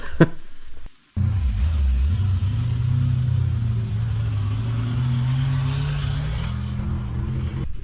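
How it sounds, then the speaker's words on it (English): A dump truck arrives at a pond dig site, its engine a loud, steady, close rumble that drones on with slight swells in pitch after a brief gap near the start. "Here's truck 3 coming in"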